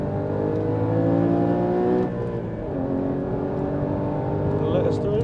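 A Porsche Cayman 981 GT4 drives hard on a race track, its engine roaring loud and close with climbing and dropping harmonic tones as it shifts, while a voice talks over it.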